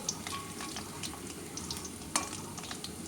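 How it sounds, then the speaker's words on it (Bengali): Fish frying in hot oil until red-brown gives off a continuous sizzle broken by sharp crackles and pops, heard close up with no talk. "লাল লাল করে ভেজে নেব ভাজা হোক"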